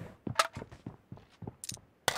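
Gunfire in the mobile battle royale game BGMI, a rapid string of sharp shots in an uneven burst, each report crisp and fairly quiet, with a few brighter cracks mixed in.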